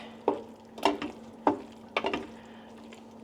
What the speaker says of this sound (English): give it a bit of a stir so it blends in